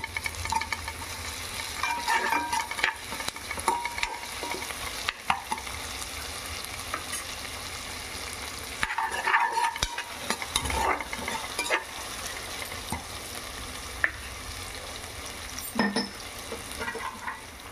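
Onions fry with ginger paste, coriander and mint in a pot for aloo pulao, a soft crackling sizzle broken by repeated stirring scrapes and occasional clinks of a spoon against the pan, with no talking.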